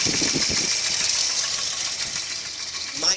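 A 1992 Volvo 244 engine idles steadily with a faint, fast ticking valve knock, heard up close and alone, ending in a brief rise of noise at the end.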